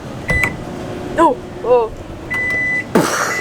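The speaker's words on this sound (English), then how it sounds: "Oh, we got the microwave, bro." Microwave oven at a construction site switched on, giving a steady electronic beep tone and a click amid rustling, with people talking briefly nearby.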